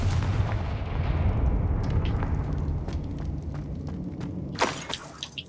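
Confringo blasting spell in Hogwarts Legacy detonating with a deep rumbling boom, rolling low-end blast noise fading out, followed by a sharper burst and crackle near the end.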